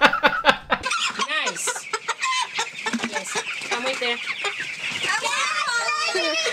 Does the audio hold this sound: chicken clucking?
yes